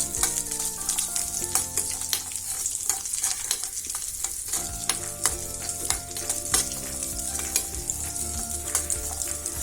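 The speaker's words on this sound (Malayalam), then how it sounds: "ഞാൻ ഇതിനകത്ത് നെയ്യ് ചൂടായതിലേക്കൊരു 10 കാഷ്നട്ട് ഫ്രൈ ചെയ്തെടുക്കുന്നു." About ten cashew nuts frying in hot ghee for caramel semiya payasam, a dense close sizzle with frequent sharp scrapes and clicks of a spoon stirring against the pan.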